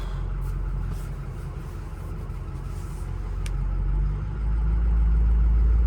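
A 2005 Ford F350 King Ranch pickup is on the move, with a steady, low engine rumble and road noise that swell slightly toward the end, no voices over it.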